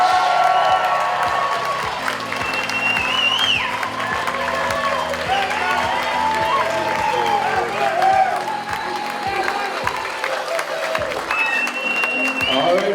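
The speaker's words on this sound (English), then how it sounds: "a big round of applause for Nicole's parents, Kevin and Teresa Koch" Wedding guests applaud and cheer for the bride's parents, a dense, steady wash of clapping with scattered whoops across a crowded reception hall, loud and sustained throughout, with a voice or two calling out over it.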